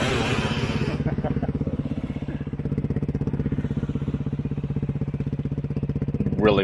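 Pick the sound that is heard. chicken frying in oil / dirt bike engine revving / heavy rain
dirt bike engine revving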